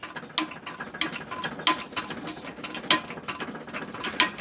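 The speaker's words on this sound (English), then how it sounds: "you're going to go clockwise to lock the cylinder, and you'll start raising your machine up" A MoJack HDL 500 lift jack raising a riding mower gives off a quiet run of light mechanical clicks and ratcheting ticks, irregular and close, with no talking.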